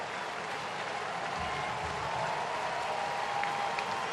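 Crowd at an Atlanta baseball game, New York at Atlanta, cheering steadily in a broad, sustained roar that holds level throughout without any talking.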